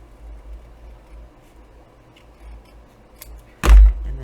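A single crisp snip of scissors cuts the edge of a paper card for a stepped envelope pocket, loud and close after a few seconds of quiet room tone.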